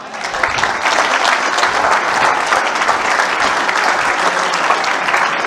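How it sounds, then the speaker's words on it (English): Graduating students clap together in a dense, steady round of applause, loud and close, filling the room evenly from start to finish with no talking over it. "so please give yourselves a round of applause."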